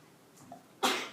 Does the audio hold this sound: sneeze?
yes